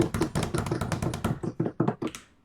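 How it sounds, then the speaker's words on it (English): A small award-show audience claps for a documentary award winner, a short burst of fairly quiet, close hand claps that thins out into a few scattered claps and stops after about two seconds. "Claps all around!"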